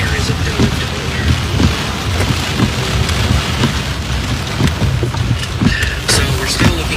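Heavy rain pours during a thunderstorm, a dense constant patter punctuated by faint low rumbles and scattered sharp drops, loud and close throughout.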